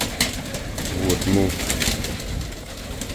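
Pigeons coo repeatedly inside a dovecote, several soft rolling calls close by, mixed with rustling and brief bursts of noise, while someone speaks a few words over them.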